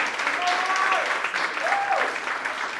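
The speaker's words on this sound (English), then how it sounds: "so give it a round of applause" Comedy club audience applause, a loud, dense and continuous wash of clapping with whoops and cheering voices over it.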